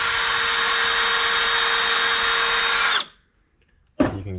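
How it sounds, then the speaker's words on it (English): A drill runs steadily with a step bit boring a hole for a 600cc street kart's control arms, a loud continuous whine that cuts off abruptly, followed by a second of near silence and then a brief burst of noise. "the best way when you got a mark like that for starting a hole is a step bit"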